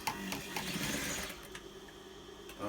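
A sewing machine stitches along the edge of a cotton washable face mask, a quiet rapid mechanical whirr running steadily before tapering off near the end.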